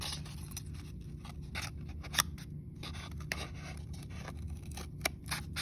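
Scissors snipping through a styrofoam cup to shape monster teeth, a steady run of short crisp cuts close up, heard alone.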